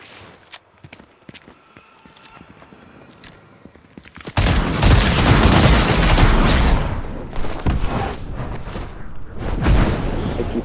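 Shotgun fire in the Fortnite video game during a Myth of Midas quest: quieter footsteps and small noises give way to a sudden loud burst of close gunfire and booms that continue heavily, then taper off irregularly.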